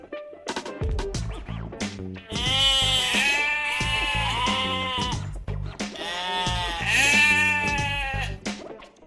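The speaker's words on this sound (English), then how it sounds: "sheep" Sheep bleating loudly and close by, two long quavering bleats separated by a short pause, preceded by a few softer broken calls.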